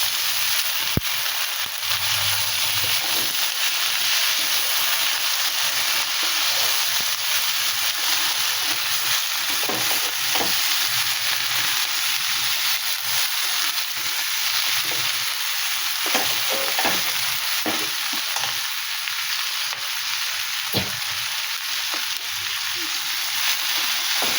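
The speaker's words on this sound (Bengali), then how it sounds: "কচুর ফুলগুলো দিয়ে দিলাম।" Taro flowers frying in a pan with shrimp, green chilli, cumin and spices, a steady broadband sizzle with scattered stirring clicks and scrapes, close and continuous throughout, no talk.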